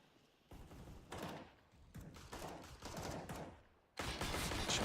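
Bursts of automatic rifle fire from a Counter-Strike esports match crackle in several separate volleys, fairly distant and low in level, with a louder, denser burst at the end.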